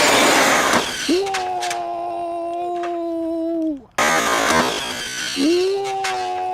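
PD Racing TK10 4S RC monster truck run at full throttle, a high electric motor whine climbing and holding, cutting off briefly then rising again, heard close.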